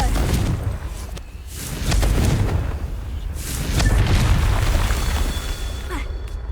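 Confringo blasting spells in Hogwarts Legacy bursting into a series of deep booming explosions, several heavy blasts rolling into one another with crackling debris, loud and close.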